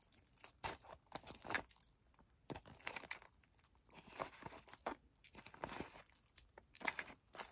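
Keys on a Coach key holder jangle and clink in repeated bursts, close and fairly quiet, with handling rustles between the jingles.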